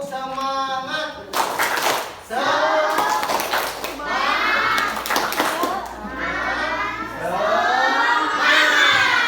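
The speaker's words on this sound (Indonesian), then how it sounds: "Tepuk semangat." Schoolchildren in a primary classroom beat out a rhythmic spirit clap, sharp patterned bursts of hand claps alternating with their chanting voices, loud and close throughout.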